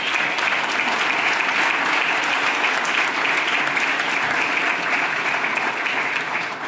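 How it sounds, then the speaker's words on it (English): Steady, dense applause from a large audience at an awards keynote, continuous clapping at an even level throughout with no pauses. "Can we have a round of applause for this scientist?"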